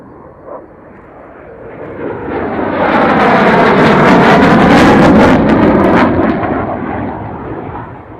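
A jet roars past at high speed and low altitude, swelling from a distant rumble to a thunderous peak and then fading away.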